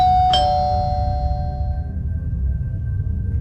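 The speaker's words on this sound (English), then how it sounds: "The doorbell rang again." A doorbell chimes once at a house door, a bright ringing tone that decays slowly over a few seconds against a low background rumble, with no talk.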